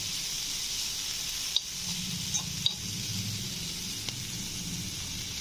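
Water spinach frying in oil, a steady soft sizzle with a few light clinks of a utensil against the pan and low rumbling underneath.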